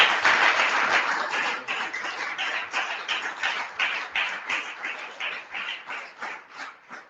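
Applause at the Ulster-Scots Writing Competition Awards for a runner-up poem, sparse hand claps from a modest audience that gradually slow and soften into separate claps toward the end.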